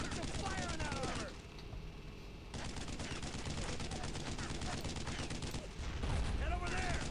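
Dense gunfire aimed at a tank in the WWII shooter Brothers in Arms: Road to Hill 30, continuous rattling bursts and overlapping shots close and loud, with battlefield noise and shouting underneath.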